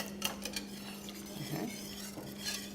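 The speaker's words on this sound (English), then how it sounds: "So you stir until now until it becomes saucy." A spoon stirs pork chop sauce in a pan with mushroom soup, giving soft scraping and occasional light clinks against the pan over a steady low hum, with a faint simmer beneath.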